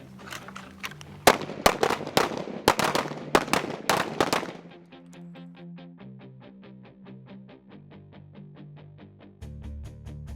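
About eight sharp, loud gunshots crack in quick irregular succession during a shooting training drill with laser sights, then stop and a steady electronic tune plays on alone.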